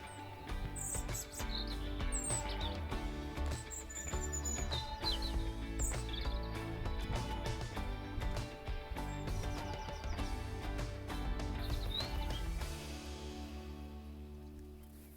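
Scattered bird calls and chirps on a private beach in Hurghada, Egypt, thin and intermittent over a steady, dense background hum that drops away near the end.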